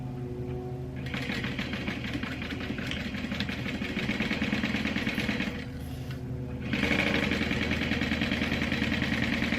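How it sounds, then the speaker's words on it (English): A sewing machine chain-sews fabric pieces for a barrel bag at a quarter-inch seam, producing a steady, rapid mechanical whir that pauses briefly partway through and then resumes slightly louder, with no talking. "I'm sewing at 1/4 of an inch. And I'm just going to chain sew it."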